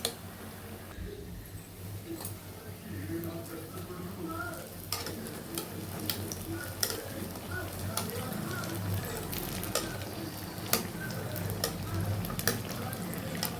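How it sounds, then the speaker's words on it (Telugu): Bonda batter frying in hot oil, a dense steady sizzle with bubbling crackle and occasional sharp ticks as the pieces are stirred and turned toward golden, close and continuous with no voices. "ఇట్లా గోల్డ్ కలర్ వచ్చేలాగా వేపుకోవాలండి"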